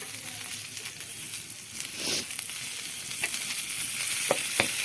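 Chicken pieces frying in oil over a village fire, a steady close sizzle with faint scraping and tapping as pieces are turned.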